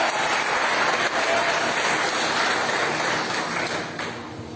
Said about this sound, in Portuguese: Aplauda ele agora.